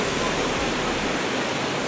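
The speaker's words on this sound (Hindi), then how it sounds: "देख सकते हैं झरना" Bhagsunag waterfall in McLeodganj, Himachal Pradesh, roars as a constant, dense rush of falling water, loud and close, with no voices over it.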